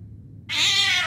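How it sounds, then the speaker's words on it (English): A cat in a horror video game set in a decaying mansion lets out a single drawn-out, high meow that starts abruptly after a quiet rumble and holds loudly until the end. "The cat get stuck in here?"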